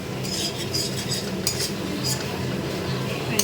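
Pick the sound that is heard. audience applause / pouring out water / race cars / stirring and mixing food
stirring and mixing food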